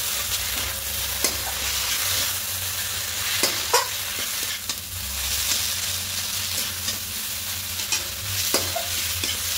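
Maggi noodles mixed with sauce and bhujia are stirred in a pan over high heat: a continuous crackling sizzle with repeated spatula scrapes and taps against the pan, close and fairly loud, with no talking.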